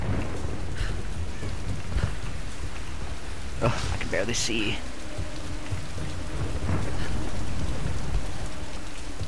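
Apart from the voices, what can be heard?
rain and thunderstorm in the video game Tomb Raider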